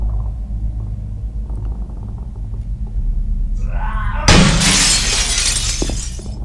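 Glass smashed in the video game Manhunt 2, a sudden loud shatter that bursts in after a low rumbling ambience and sprays bright crackling fragments for about two seconds, up close.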